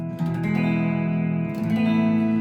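Clean electric guitar notes through a Kemper profile ring out and sustain, a soft wash of reverb and echoing delay trailing each note, steady and moderately quiet with no voices.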